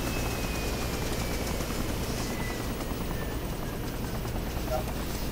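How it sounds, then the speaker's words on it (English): A helicopter in a video game drones continuously, its rotor chop pulsing steadily and loudly throughout with no break. "Hey, who's still flying a chopper?"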